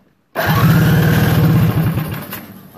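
A Briggs & Stratton Animal go-kart engine, sparkplug out and set up for methanol, is cranked over after a moment of silence, producing a loud, rapid rhythmic chugging of compression strokes that tapers off toward the end.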